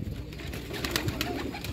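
Sialkoti pigeons on a Sialkot rooftop coo in soft low murmurs under a busy, noisy background, the calls blending together rather than standing out singly.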